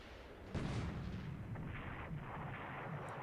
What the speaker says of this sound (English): And it's another bombardment task force.